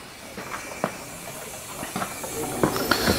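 Steady steam hiss from a workshop machine, with scattered clicks and knocks over it, at moderate level and no talking.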